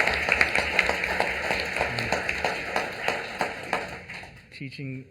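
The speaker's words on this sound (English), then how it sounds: "Let's give them a round of applause" An audience claps at a county board meeting, with steady rapid applause that fades out near the end while a voice talks over it.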